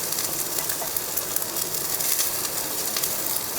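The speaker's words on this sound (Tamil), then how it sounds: "தேங்காய் போட்டு ஒரு 2 நிமிஷத்துக்கு வறுத்தா போதும், ரொம்ப நேரம் வேண்டாம்." Grated coconut roasts in a pan, giving a steady, fairly soft sizzling hiss with faint crackles and a few light scrapes, close and with no talking.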